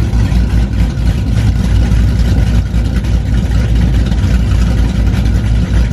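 A 5.8 liter engine runs nearby, a loud, deep, steady rumble with a rough low-end throb and no talking over it.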